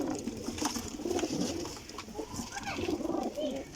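Pigeons coo steadily in a loft of breeding young birds, soft throaty calls overlapping in a continuous close chorus with no voices over them.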